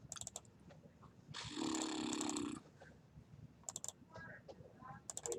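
Students typing on computer keyboards during a Python lesson, a scattered patter of key clicks with a loud rasping burst in the middle and faint voices in the background.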